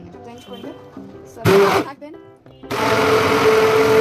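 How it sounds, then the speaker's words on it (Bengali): Electric blender whirring through a homemade hair pack with coconut oil: a short loud burst, then a longer sustained run, with someone talking before and between them. "এখন এই হেয়ার প্যাকটাকে খুব ভালোভাবে ব্লেন্ড করে নিতে হবে।"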